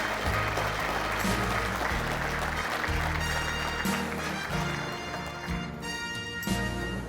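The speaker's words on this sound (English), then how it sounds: "please give a round of applause to Ray Mueller" A crowd applauds a posthumous Kansas Sports Hall of Fame inductee, broad sustained clapping mixed with loud, steady music playing underneath throughout.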